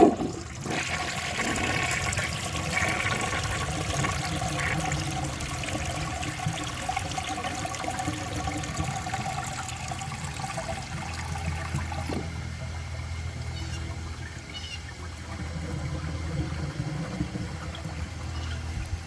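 A 1965 Southern Porcelain toilet flushes with a dish towel in the bowl, giving a long steady rush of water that shifts to a lower gurgle and refill trickle partway through.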